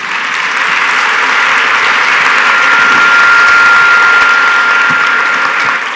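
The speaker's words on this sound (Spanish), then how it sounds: "Ahora el aplauso para nuestros panelistas." An audience at an international archives seminar applauds the panel, a dense, loud, steady wash of clapping that holds for several seconds and tapers slightly at the end.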